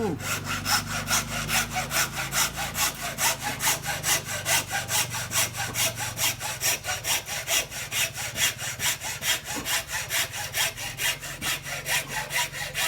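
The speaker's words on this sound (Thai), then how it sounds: "เห็นไหมเลื่อยตัดเหล็กเนื้อมันจะละเอียดนะ" A hacksaw cuts through bamboo in steady, rapid back-and-forth strokes, close and even, with no voices.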